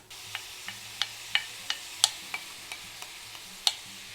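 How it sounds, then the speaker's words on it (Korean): Tomatoes sizzle in a hot pan over medium-high heat without oil, a soft steady crackle punctuated by about a dozen sharp stirring clicks and taps at a fairly regular pace, with no talk. "토마토 그냥 팬에 기름 없이 넣습니다"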